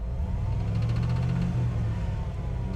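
A Jeep Gladiator engine idling loudly and steadily up close, with a deep, continuous mechanical rumble and a faint rhythmic tapping that fits a failing lifter or rod knock.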